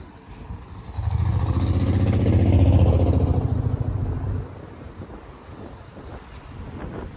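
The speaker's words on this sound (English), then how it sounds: "It's nice and windy. It's a nice cool breeze" Wind buffets the microphone in a loud rumbling gust that swells for a few seconds and then eases to a softer breeze, outdoors while walking in a Philadelphia residential neighborhood.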